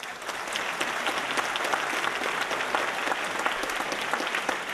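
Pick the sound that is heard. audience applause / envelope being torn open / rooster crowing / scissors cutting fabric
audience applause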